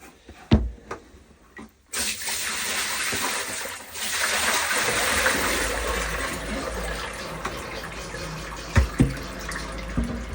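Fresh water gushes steadily into a sailing yacht's bilge, a broad rushing splash that starts abruptly after a few knocks and keeps pouring for several seconds, loud and close with occasional bumps.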